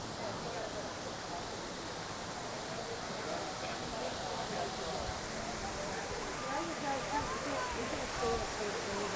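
A large waterfall at the EPCOT Canada pavilion roars as a steady, dense rush of water that runs throughout, with a person talking over it.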